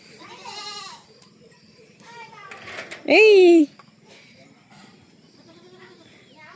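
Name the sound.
goats bleating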